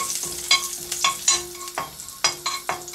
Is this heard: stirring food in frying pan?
yes